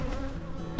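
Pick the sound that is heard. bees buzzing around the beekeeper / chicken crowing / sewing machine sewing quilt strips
bees buzzing around the beekeeper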